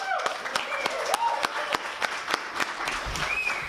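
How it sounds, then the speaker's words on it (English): An audience at a Libertarian Party gathering claps in a steady, moderately loud round of applause, with a voice audible faintly underneath. "Give yourselves a big round of applause."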